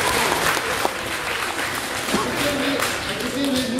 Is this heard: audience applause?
yes